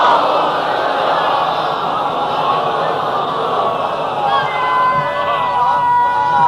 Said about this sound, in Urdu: بلند ترین صلوات بھیجیں معصومین کے اندر۔